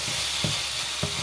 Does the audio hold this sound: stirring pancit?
yes